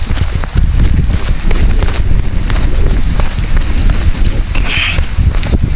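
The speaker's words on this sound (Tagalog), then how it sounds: "Sisilong tayo guys, ang lakas ng ulan." Heavy rain pours steadily in a rough, dense wash with wind-like buffeting on the microphone, continuous and loud throughout, on a mountaintop near an abandoned house.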